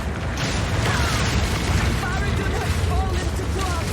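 Incendiary bolts exploding in Path of Exile, a continuous roaring, booming barrage of fiery blasts with dense crackling, loud and sustained, with excited commentary talking over it.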